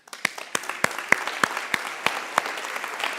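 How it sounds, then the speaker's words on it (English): Attendees at an annual meeting give a round of applause, a thin scatter of steady clapping that is moderately quiet and slightly distant, with sharp individual claps standing out. "For our people in today, I would like you to give yourselves a round of applause."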